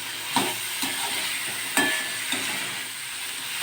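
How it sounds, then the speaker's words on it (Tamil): Ginger and brinjal sauté in hot oil for a Chettinad ginger curry, giving a steady close sizzle broken by a few soft stirring scrapes, with no voices. "இப்போ இஞ்சியும் கத்திரிக்காயும் எண்ணெயிலே கொஞ்சம் நேரம் வதங்கிடுச்சு"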